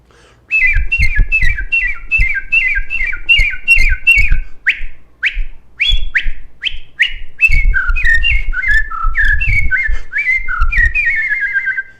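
A man whistles an imitation of the sabiá-do-inverno bird song, a loud, close series of repeated melodic phrases of sliding notes, with short pauses between bursts and low breathy sounds underneath.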